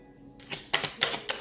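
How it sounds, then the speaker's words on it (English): Tarot cards are shuffled in a few quick, crisp riffling bursts, close and fairly loud, with short gaps between them. "I'm going to do one last shuffle for Aries."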